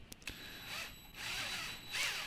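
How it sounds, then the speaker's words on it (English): A cordless drill spins a valve lapping tool against a valve on a Honda CR-V 2.0 litre K20 cylinder head, making quiet, close whirring bursts in short intermittent runs. "and then you using your cordless drill"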